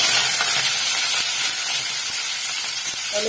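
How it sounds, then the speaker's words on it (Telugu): Onions sizzle and hiss steadily in hot oil in a pan with curry leaves for coconut chutney, a loud continuous frying crackle with faint stirring clinks and no voices. "ఇప్పుడు ఉల్లిగడ్డలు ఎర్రగా ఎంత దాకా వేయించుకోవాలి"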